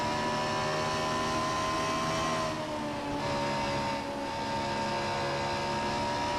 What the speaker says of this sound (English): sending the car into the S's at about 154 miles per hour